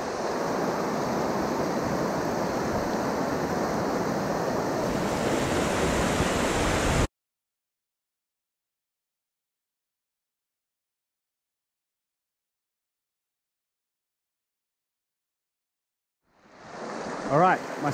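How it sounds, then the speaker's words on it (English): River water running through The Narrows in Zion National Park: a steady, broad rush of flowing water for about seven seconds, then silence, before wind and rustling return near the end. "especially with the water running right here"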